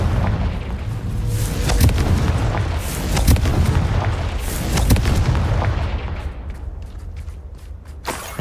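Confringo blasting curses explode in Hogwarts Legacy, a series of booming, crackling blasts with sharp pops over a rumbling roar, loud and repeated before fading near the end.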